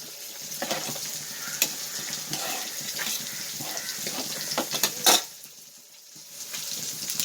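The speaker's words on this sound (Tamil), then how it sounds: "இந்த மாதிரி ஸ்பீட் வச்சு வறுக்கும்போது ஃப்ரை பண்ணும்போது தான் மீன் வந்து ஒட்டாது ஆயிலில்." Ayila fish frying in a pan of hot oil, with a steady, close crackling sizzle and occasional sharper spits and pops throughout, no voices present.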